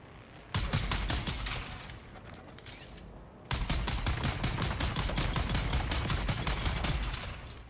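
Sustained rapid gunfire in Dune: Awakening, two long bursts of close, evenly spaced shots separated by a short lull, the second burst louder and running for about four seconds.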